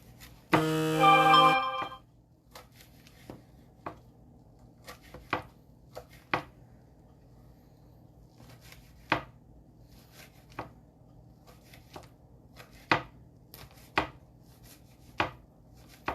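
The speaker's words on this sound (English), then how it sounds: "Okay, I'm going to cut this up." A knife chops fresh sage for pizza on a board in sparse, sharp knocks, about a dozen spaced over several seconds, following a brief loud electronic buzz at the start.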